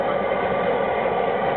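A Lister engine converted to run on wood gas, with a steady, loud droning run and even mechanical texture that holds constant throughout, heard close with no talk.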